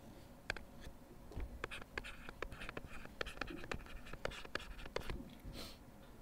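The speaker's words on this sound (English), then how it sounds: "let's write down our answer here." An answer is written down by hand on paper, quiet scratchy pen strokes in quick irregular bursts, close and faint, with no talking.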